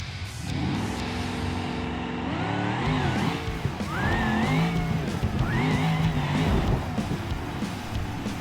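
Gavril Barstow muscle car in the BeamNG driving game launching off the trans brake with nitrous, engine revving hard through rising gear pulls with tire squeal, loud and close, no talk.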